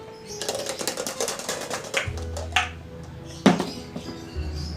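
Dice rattling and clattering as they are shaken for a children's board game, a series of quick clicky taps and knocks, with a louder toss near the end.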